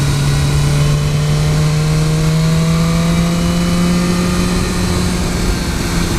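A 2015 BMW S1000R motorcycle engine holds a loud, steady, slowly rising note through a double apex corner, with heavy wind noise throughout.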